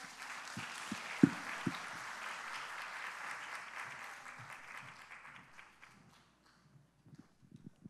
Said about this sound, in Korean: 나오실 때 박수로 맞이하시겠습니다.